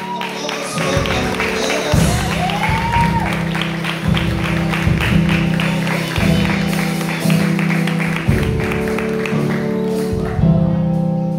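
A church congregation applauding, steady, dense clapping from many hands that runs throughout with a rhythmic pulse, accompanied by music and a voice speaking over it.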